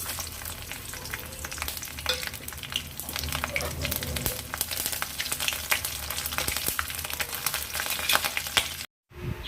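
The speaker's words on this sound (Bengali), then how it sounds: "প্রথমে আমি শুকনো লঙ্কা কাঁচা লঙ্কা তেজপাতা কালো জিরে ফোড়ন দিয়ে দিচ্ছি" Dried red chillies, green chillies, bay leaves and nigella seeds crackle and sizzle steadily in hot oil, a dense popping hiss that holds throughout before a brief dropout near the end.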